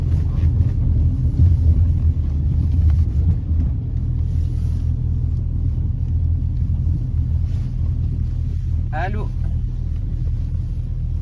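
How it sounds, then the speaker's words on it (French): Low, steady engine and road rumble fills the cabin of a moving car, with a constant drone running the whole time beneath occasional phone talk. "On est en voiture là."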